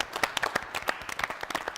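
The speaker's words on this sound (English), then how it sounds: "Let's give her a round of applause." Scattered applause from a small audience at a team guessing game show, a few distinct hand claps at an uneven rhythm, fairly faint and close.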